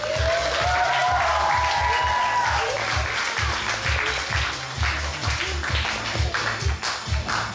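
A crowd applauds at a children's camp award ceremony after a best actress prize, with steady, dense clapping throughout, over a rhythmic low music beat and a brief voice.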